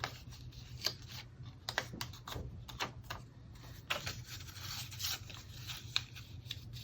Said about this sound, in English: you literally just fold them back up on the score lines.